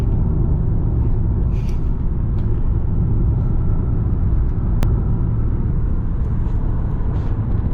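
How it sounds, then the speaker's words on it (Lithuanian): Steady, close engine and road rumble from inside a moving taxi in Spain, continuous and even throughout with one brief sharp tick midway and no talking. "Važiuojam su taksi."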